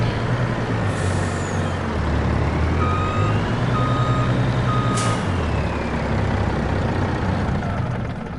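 A truck in Farming Simulator 22 reverses with a steady string of evenly spaced electronic beeps over a low diesel engine drone, with short hisses of air brakes, loud and close.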